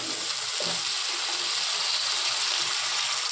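Water splashed into a hot pan of fried potatoes and spices, producing a steady hissing bubble and sizzle that runs evenly throughout.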